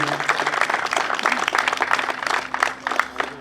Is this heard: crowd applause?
yes